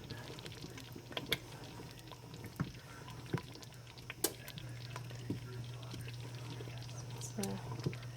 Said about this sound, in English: just got to keep stirring it.